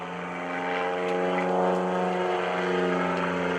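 An Extreme Decathlon aerobatic airplane at the 2013 Greenwood Lake Airshow roars with a loud, close propeller drone that swells slightly and holds steady throughout.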